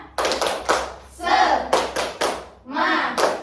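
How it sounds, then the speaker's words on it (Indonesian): Children in a primary school class do a rhythmic 'tepuk semangat' clap: sharp claps in quick bursts with group chanting in between, close and loud. "Kita tepuk semangat dulu ya"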